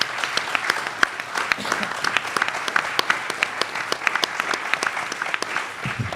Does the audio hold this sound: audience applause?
yes